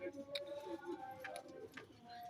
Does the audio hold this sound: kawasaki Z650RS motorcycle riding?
no